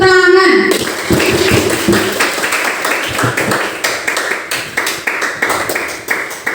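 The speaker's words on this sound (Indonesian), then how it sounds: "tepuk tangan." A school class claps hands together in a series of rhythmic, fairly loud claps following a short tonal sound at the start, with a voice speaking in the background.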